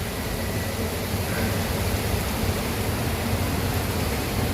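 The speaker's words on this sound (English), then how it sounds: "See the raining now, started raining again." Steady rain falls outdoors, a continuous even hiss of moderate loudness that holds unchanged throughout, with no talking.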